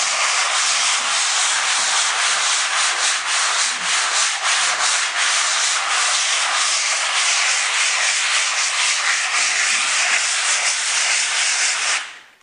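Hand sanding of a primed surface with 220-grit sandpaper, a steady broadband scratching rasp that runs continuously at close range for about twelve seconds, then stops.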